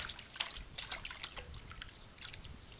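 A small child splashes in a backyard swimming pool, sending out a series of light, quick watery slaps and trickles at moderate distance, fairly faint, with brief pauses between splashes.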